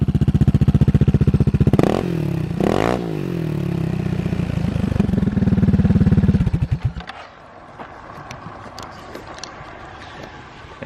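An Aprilia SR Max 300 scooter with high mileage runs loud, its exhaust droning steadily close by with two sharp revs early on, then it drops to a lower idle with light mechanical clatter.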